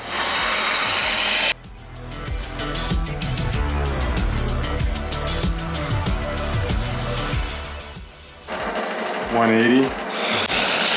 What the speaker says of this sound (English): And I sand at about 500 RPM typically.